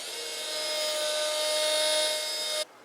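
A dental surgical drill fitted with a 2.4 mm diameter burr prepares an implant site, giving a steady high-pitched whine that runs close and even for over two seconds before cutting off abruptly.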